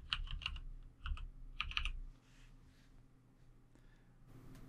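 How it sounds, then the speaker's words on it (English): Computer keyboard typing in a quiet room, a few quick clusters of crisp key clicks followed by a low background hum. "Type in what you want it to say."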